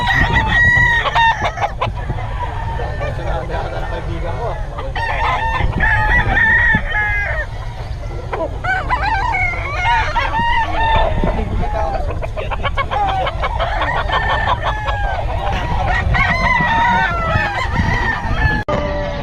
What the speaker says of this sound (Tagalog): ano masasabi mo sa mga manok ni Boss Eric?